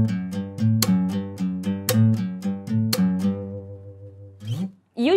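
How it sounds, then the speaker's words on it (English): A fingerstyle acoustic guitar plays a bassline with a string slap on the beats, giving a steady percussive pulse of low notes and sharp clicks, close and alone, before it stops. "If I play the full bassline notes and with the string slap at the same time,"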